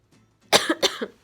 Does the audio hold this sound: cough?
yes